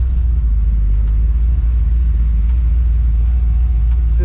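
A running classic car fitted with electric power steering taken from a Prius gives a close, loud, steady low engine rumble as it idles and begins to pull out.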